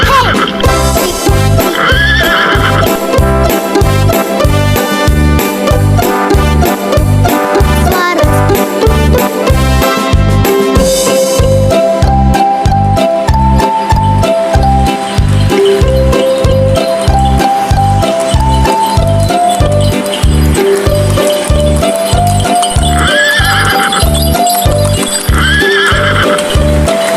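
A horse pulls a delman cart, with steady, even clip-clop hoofbeats carrying through the whole stretch and whinnies rising briefly near the start and end, all mixed under a loud, continuous musical backing.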